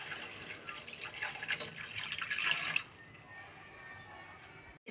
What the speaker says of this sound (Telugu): నేను 4 గ్లాసుల వాటర్ అయితే పోసుకుంటున్నాను